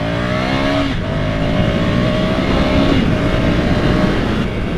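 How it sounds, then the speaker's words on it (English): A 2021 Ducati Scrambler Desert Sled motorcycle accelerates hard toward 70, pitch climbing and dropping as it shifts up through several gears in quick succession, loud and close. "You can hear how quick I was going through the gears then, just going up to 70"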